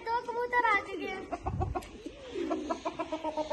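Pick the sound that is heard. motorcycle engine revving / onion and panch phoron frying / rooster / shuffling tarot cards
rooster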